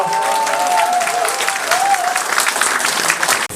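Supporters at a press conference for an Incheon mayoral candidacy burst into loud, close applause, with a few voices and whistles rising briefly over the steady clapping.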